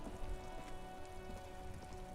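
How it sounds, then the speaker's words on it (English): Steady rain patters on surfaces in Disco Elysium, a constant, even wash of drops with no talking. It sounds moderately close and fills the whole moment. "It's raining again."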